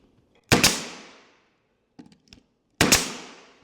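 A nailer fires staples into cabinet wood: two loud, sharp bangs with ringing decay, a few small clicks of handling between them.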